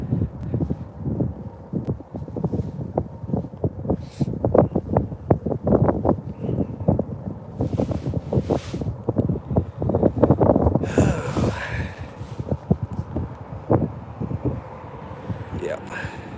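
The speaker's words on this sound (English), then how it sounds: "That wind's coming out of that gorge and right straight up this cliff face." Strong wind blows out of a gorge and straight up a cliff face, producing a constant rough roar with heavy gusty buffeting on the microphone, while someone speaks over it.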